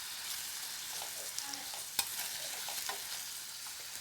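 Onion, tomato and curry leaves sautéed with salt in a pan for a ridge gourd kootu, a steady soft sizzle with occasional spoon scrapes and taps as the mixture is stirred, close and fairly quiet, no talking.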